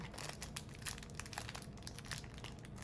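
Quiet, close crinkling and rustling of a plastic bag, a continuous run of small crackles with no speech.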